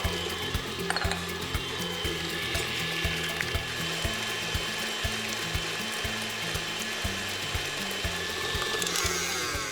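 An electric mixer whirs steadily while beating eggs and sugar for tiramisu, a continuous motor drone with a faint rhythmic clatter of the beaters against the bowl, loud and close with no talking.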